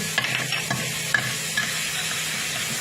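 Chili, garlic and shrimp sizzle steadily while a utensil stirs and scrapes them around a hot pan, close and continuous, with a few sharper clinks.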